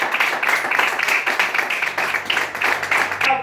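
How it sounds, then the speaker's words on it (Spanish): A church congregation claps together in a quick, uneven burst of rhythmic applause, close and fairly loud, lasting a few seconds before fading. "Den un aplauso al Señor"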